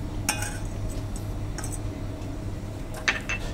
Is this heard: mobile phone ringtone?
no